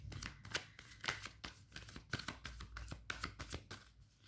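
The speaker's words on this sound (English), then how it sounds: "I'm gonna shuffle here, guys. You can hear me shuffling." Tarot cards being shuffled by hand, a close, soft series of irregular riffling and slapping bursts with short pauses between them.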